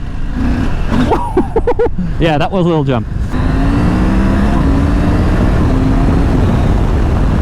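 A KTM 890 Adventure R off-road motorcycle engine roars loud and steady, its revving pitch climbing after a short jump while a rider talks over it near the start.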